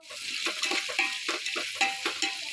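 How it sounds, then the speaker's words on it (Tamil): Onions sautéing in a pan for kitchadi, a steady close sizzle broken by repeated scraping stirs every half second or so, with no voices. "வெங்காயம் சேர்த்துட்டு வெங்காயம் கொஞ்சம் பொன்னிறமாக நல்லா வதங்கி வரணும்."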